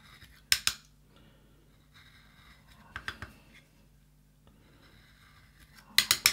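Blade skiving a leather edge to thin it for folding on a leather bag, a few quiet scraping strokes in short separated bursts near the mic, with no talk.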